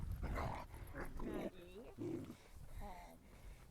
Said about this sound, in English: She's growling.